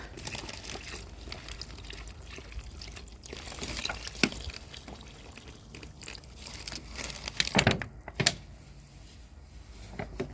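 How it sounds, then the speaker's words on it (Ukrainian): Hot water poured into a container outdoors in winter while tending an almond tree, heard as a soft irregular splashing trickle with a few sharper splashes and crinkling near the end. "І я його буду заливати гарячою водою."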